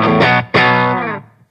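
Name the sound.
clean electric guitar tone through Divided by 13 RSA 31 amp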